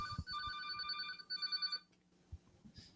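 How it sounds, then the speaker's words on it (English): A telephone rings in repeated electronic trills, two bursts with a short gap between them, close and fairly quiet, followed by a faint knock and a brief tone. "Would you call the phone so that I can..."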